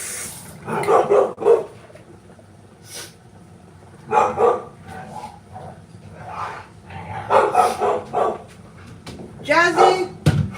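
Dogs bark and yip in several loud, close bursts, with whimpers between, over a kitchen background where a person also talks.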